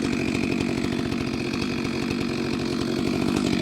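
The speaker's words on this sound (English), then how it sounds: "I'll just come in right here and just kind of trim that down" Chainsaw cutting a walnut branch for firewood, a steady, loud, close engine whine with a continuous buzzing rhythm that holds throughout with no talk.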